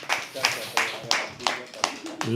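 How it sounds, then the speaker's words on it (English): Sparse, separate hand claps at a poetry open mic, a handful of distinct claps spaced across a couple of seconds over a low hum of the room, with voices faintly present. "Can we please have a round applause, please?"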